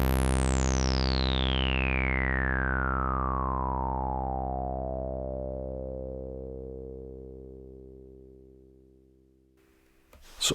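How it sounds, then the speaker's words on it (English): A Behringer TD-3 bass synth plays a single long note at maximum decay, a sustained buzzy tone with a resonant filter sweep gliding slowly downward over ten seconds and gradually fading, ending with a brief noisy rattle. "Maximum decay on the TD3."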